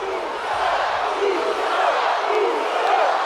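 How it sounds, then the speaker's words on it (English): A WWE 2K24 arena crowd roars steadily throughout a main event wrestling match, with a continuous dense cheer and faint rising chants, loud and unbroken for a few seconds. "The crowd definitely behind Jimmy Uso here tonight"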